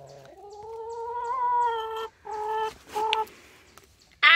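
Backyard chickens clucking and squawking at feeding time, a run of close, loud calls broken by short pauses, with no talking.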